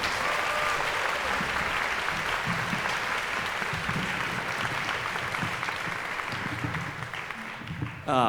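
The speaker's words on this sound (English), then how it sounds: "Can we give another big round of applause to Symphony?" Sustained audience applause after a youth orchestra's spring concert performance, a dense steady wash of clapping throughout that thins slightly near the end before a brief burst of voice.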